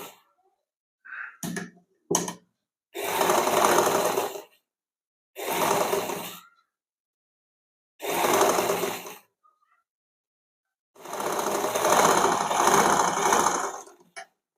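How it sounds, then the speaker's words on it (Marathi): A sewing machine runs a continuous stitch up the front of a blouse to the neckline, in several loud bursts of steady mechanical whirring, a few short and others lasting a couple of seconds, separated by silent pauses. "इथून आपल्याला परत वरती आपल्या गळ्यापर्यंत एका दाबाची शिलाई संपूर्ण मारून घ्यायची."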